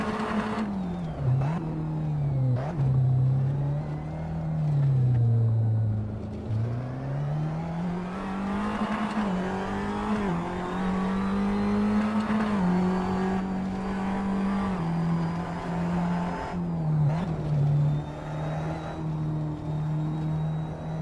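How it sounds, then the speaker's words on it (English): An open-wheel race car in the Assetto Corsa driving game revs hard through a neighborhood, its engine note climbing and falling repeatedly with gear shifts over about twenty seconds, loud and continuous. "watch him race around his local neighborhood in this open wheeled car"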